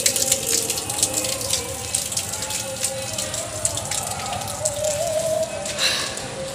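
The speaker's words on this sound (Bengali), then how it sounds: "দেখো এদিকে আবার জল ভর্তি হয়ে পড়ে যাচ্ছে।" Water filling a container and spilling over the edge in a house stairwell, a steady close splashing gush that runs without a break.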